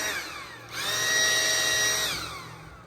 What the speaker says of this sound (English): Blow the leaf blower a little more.